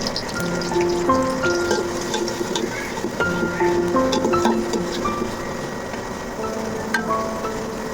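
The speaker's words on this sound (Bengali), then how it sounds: "এখন আমি পেঁয়াজটা পেস্টটা করে নিব, ভালো করে ভেজে লাল করে ভাজবো।" Onion paste fries in hot oil with a steady bubbling sizzle. Faint tonal sounds from the surroundings and occasional utensil clinks sit in the background, and no one speaks.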